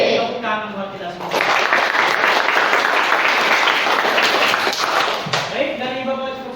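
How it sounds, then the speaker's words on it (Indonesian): A school class gives a round of applause at the end of a lesson. Brisk, dense clapping swells for about four seconds and then fades, with a teacher's voice speaking just before and just after. "Tepuk tangan buat kita semua."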